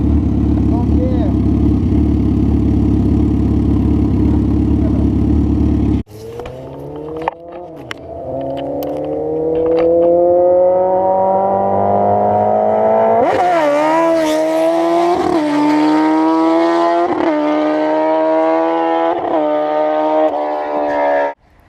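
2003 Suzuki GSX-R 1000 motorcycle engine after a clutch install: a brief idle, then the engine starts and revs repeatedly, with sharp throttle blips climbing and falling, loud and close.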